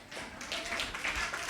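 A church congregation claps together during a Filipino worship service, a dense, steady patter of many hands that carries through the whole moment at moderate volume, with no voices rising above it.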